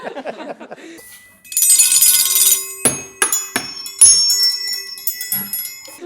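Struck tuning forks ring like small bells, several sharp metallic strikes each leaving a bright sustained tone, following a short stretch of people talking.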